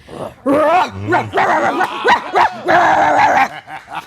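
A person imitates a huge, ferocious, vicious dog with loud, voiced growls and barks that rise and fall in several rough bursts, close to the listener, with no real animal present.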